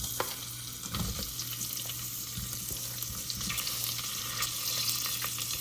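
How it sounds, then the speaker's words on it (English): Onion frying in oil in a pan for chole pulav, a steady broad sizzle running throughout with occasional soft clicks and scrapes of stirring, no voices. "Now I add the onion."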